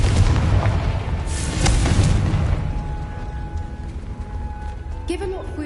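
The Confringo fire spell goes off in the video game Hogwarts Legacy as a loud, rumbling blast that lingers and slowly fades, with a spoken line over it.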